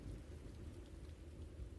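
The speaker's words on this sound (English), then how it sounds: "Outside, the storm begins to ease." Steady rain of a storm easing outside a shelter, a dense continuous wash with deep low rumble underneath, even and moderately loud throughout with no voices.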